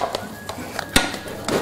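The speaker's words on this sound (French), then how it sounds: "Donc on va dessécher la pâte à choux." A spoon stirs choux pastry dough in a saucepan over heat to dry it out, giving soft scattered scrapes and light taps against the pan, faint and close, with no talk.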